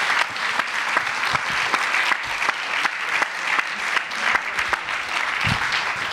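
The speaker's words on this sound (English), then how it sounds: "we're going to be giving a big round of applause to Jason Scott." Audience applause at the close of a talk at the IMPAKT Festival 2015: steady, dense clapping from a crowd that fills the room for about six seconds, with no speech.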